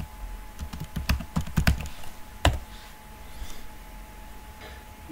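Keys tapped on a computer keyboard while typing into a search box, a quick cluster of close clicks followed by a single harder keystroke, then quiet room tone.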